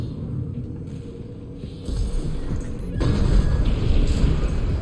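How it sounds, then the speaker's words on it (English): Grenade cannon explosion in the mech game Armored Core VI, deep booming blasts and rumbling that build in loudness over a few seconds with mechanical game noise underneath. "The left shoulder grenade cannon fires explosive rounds to cause area damage."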